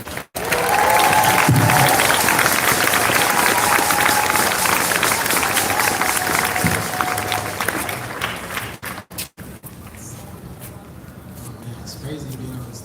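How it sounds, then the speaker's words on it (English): An audience at a Denver solidarity march event claps and cheers in a loud, dense wash that holds for about eight seconds, then thins and fades to a quieter murmur with voices underneath. "let's give him a warm round of applause"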